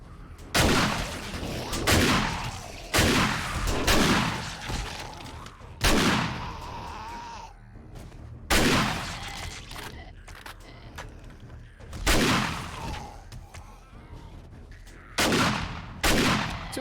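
Gunfire in the video game 7 Days to Die Alpha 19 comes in repeated sharp bursts of several shots each, spaced a couple of seconds apart, loud and close with short ringing tails.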